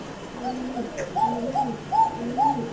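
A pair of Pakistani exhibition pigeons at a sale coo close by in a run of four or five soft, rolling calls, with people talking around them.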